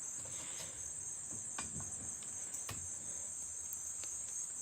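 High-pitched insects chirping outside a porch at night, a steady shrill drone continuing without break, with faint scattered clicks and taps nearby.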